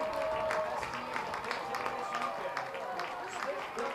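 Baseball crowd at a college game between Michigan and Penn State cheering and murmuring in reaction to a called ball, a steady wash of applause and voices under a commentator's talk.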